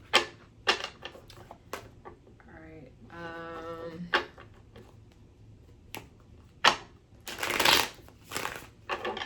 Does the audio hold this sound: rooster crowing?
no